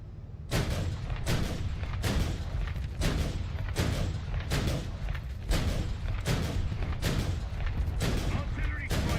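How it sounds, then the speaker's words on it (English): Artillery strike in War Thunder: a steady barrage of roughly nine heavy, booming impacts at regular intervals, loud and close, each with a sharp crack and rumbling tail. "Artillery strike in your sector."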